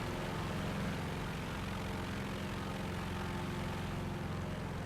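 An IAR-81C propeller fighter in War Thunder drones with a steady, loud engine roar and dense low propeller buzz, unbroken and constant throughout with no talk.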